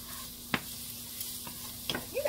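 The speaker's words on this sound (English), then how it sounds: "So we're going to put onions in there with our garlic." Onions and garlic frying in a pan, a steady low sizzle with a few scattered utensil clinks and scrapes, close and fairly quiet, with no one talking.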